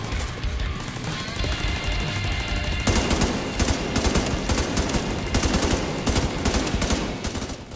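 Rapid assault rifle bursts crackle in The Division 2 shooter game, a dense run of sharp repeated shots that grows heavier partway through, loud and close over background game noise.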